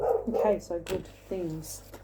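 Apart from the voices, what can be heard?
dogs barking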